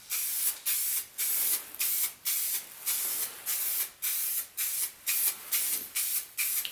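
Short bursts of spray primer hiss onto Jaguar XJ6 cam covers in an even rhythm of about a dozen quick passes, close and moderately loud with brief gaps between each spray.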